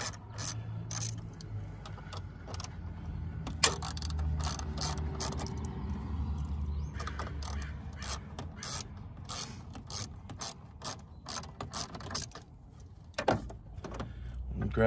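Work on a car's turbo inlet pipe as a hose is disconnected, with close clicking, ratcheting and metallic scraping in irregular bursts, plus a low mechanical rumble, no talk.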